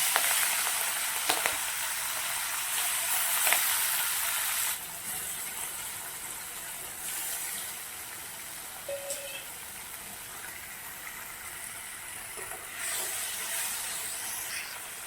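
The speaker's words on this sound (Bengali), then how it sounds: "চিংড়ি মাছগুলো আমি এবার তেলে দিয়ে দিচ্ছি।" Shrimp fry in hot oil in a pan, a continuous bright sizzle and hiss that drops in level partway through and holds steady, with a few faint clinks.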